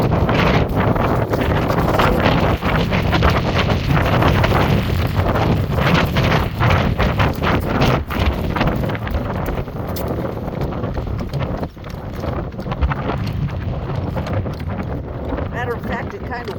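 Strong wind roars steadily across an outdoor microphone during a horse-drawn harness drive with Greentree Lady's Man, with a faint rhythmic clip-clop of hooves underneath and occasional voices.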